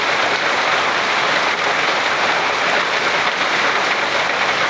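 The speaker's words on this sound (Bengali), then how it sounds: "বৃষ্টি পড়তেছে।" Steady, dense rain pours down during a stormy night in a flooded Bangladeshi village, a loud unbroken hiss with no pauses and no voices.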